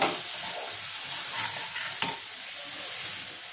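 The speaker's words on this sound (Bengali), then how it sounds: "এবার আমি মটরটা দিয়ে দেবো, সেদ্ধ করা মটরটা দিয়ে দেবো।" Boiled peas go into a pan of fried, oil-released masala for ghugni, producing a steady soft sizzle with light stirring scrapes and one sharp clink near the middle, close and fairly quiet.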